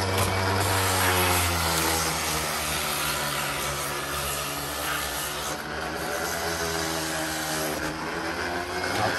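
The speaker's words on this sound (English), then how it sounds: "I can really get in here and do some grinding." A power grinder working on a fountain, giving a loud, continuous, steady motorized whine with a low hum underneath, close and unbroken throughout.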